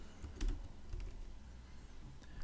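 Keys tap on a computer keyboard in a few quick, light clusters, close and soft, with quiet room noise between the strokes.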